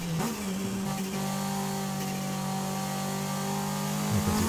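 A Toyota MR2 engine in the racing game Forza Horizon 5 holds a steady mid-pitched drone, briefly dipping and rising as gears change, loud and alone without talk.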